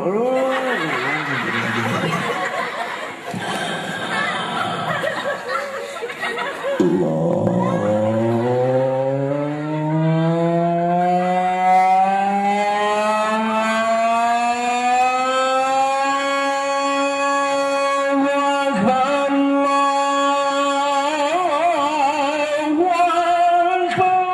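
A voice imitates a motorcycle engine, buzzing and revving with pitch sweeping up and holding, rising again in bursts, loud and close for a long stretch.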